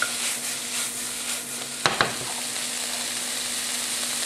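Garlic, marjoram and mirepoix of translucent onions sautéing in a pan for cornbread sausage stuffing, a soft even sizzle with two sharp utensil clinks near the middle, close and without talk.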